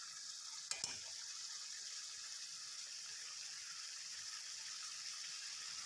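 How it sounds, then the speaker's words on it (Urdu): Boneless chicken frying in ghee with onion-chili paste in a karahi gives a soft, continuous sizzle. A brief clatter comes near the start, then the sizzle stays steady and fairly quiet. "اور ہم چکن کو اتنی دیر بھونیں گے جب تک یہ گھی نہ چھوڑ دے"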